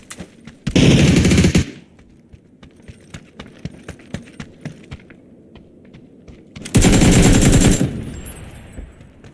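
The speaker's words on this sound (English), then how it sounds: "He's getting shot at?" Two long, loud bursts of rapid automatic gunfire ring out in PUBG, one near the start and one near the end, with fainter scattered shots and thuds in between.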